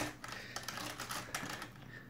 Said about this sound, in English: what are you typing in there?